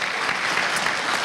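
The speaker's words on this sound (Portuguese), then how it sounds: "Uma salva de palmas" Audience applause at the close of a Portuguese-language talk, a dense, steady patter of many hands clapping together, loud and continuous throughout the short burst.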